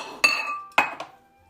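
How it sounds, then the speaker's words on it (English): A metal spoon scraping and clinking inside a jar of sesame butter in a kitchen, with two sharp clinks and a fainter third knock, each ringing briefly before fading into quiet. "So you just scoop it out with a spoon."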